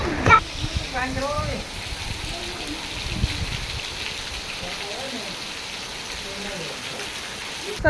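Rain falls outdoors during the monsoon, a continuous hiss of drops on surfaces, with a person talking over it at the start and again briefly later.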